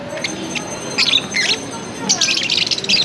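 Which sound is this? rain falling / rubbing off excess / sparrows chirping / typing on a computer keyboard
sparrows chirping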